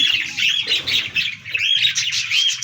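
A pair of pet cockatiels chirping and squawking up close, bright repeated calls overlapping continuously with no talk.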